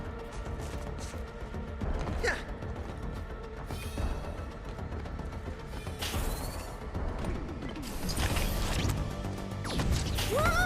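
An elevator mechanism moving in a video game, heard as a busy run of mechanical clanks, ratcheting and crashing hits over a continuous rumbling bed, with no talking.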